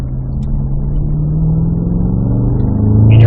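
A Cadillac CT5-V Blackwing with a six-speed manual accelerates on the Spring Mountain race track in Pahrump. Its engine note climbs steadily and grows louder, close up and steady in pitch, with no speech.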